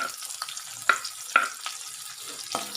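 Chopped onion goes into hot oil with asafoetida and ginger-garlic paste, giving sharp spoon-on-pan clinks and brief scraping stirs over a soft background crackle of frying.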